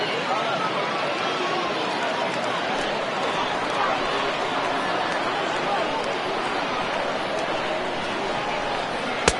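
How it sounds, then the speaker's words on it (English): A baseball crowd roars steadily during a late-inning rally with the score 3-1, a dense, continuous wash of stadium cheering and babble that holds loud and even throughout, with a sharp click right at the end. "listen to this crowd now. They are really into this."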